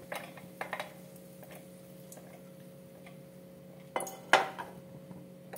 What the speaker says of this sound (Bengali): এবার আমি বাদামটাকে বের করে নেব।